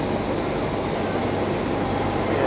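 Steady broadband roar of an Air Transat jet airliner at Toronto Pearson Airport, a continuous engine wash heard from some distance with no talk over it.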